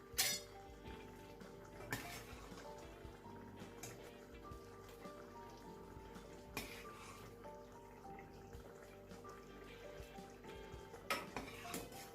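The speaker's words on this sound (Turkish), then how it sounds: "Şöyle son bir kez karıştıralım." A spoon clinks against a pot while soup is stirred one last time, light metallic taps and scrapes recurring irregularly over a steady low kitchen hum, with a few sharper clinks standing out.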